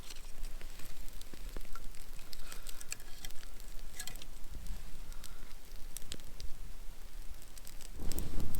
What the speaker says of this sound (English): Nothing beats the feeling of being beside bonfire.